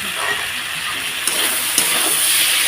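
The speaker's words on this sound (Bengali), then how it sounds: "এটা দিয়ে এখন ভালোভাবে নাড়াচাড়া করে নেব" Ginger paste sizzling in a pan with vegetables, a dense, bright hiss held steady and loud up close, broken by one or two faint stirring knocks.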